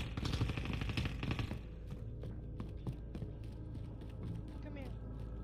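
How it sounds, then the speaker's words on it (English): Video game gunfire: a burst of rapid shots in the opening second and a half, then scattered single shots and clicks at lower level, with a player's voice talking over the action. "He's firing."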